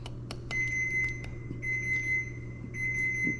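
A kitchen stove timer beeps in a steady repeated tone to signal the food is done, sounding over a low constant hum and a few clattering knocks, with no talk.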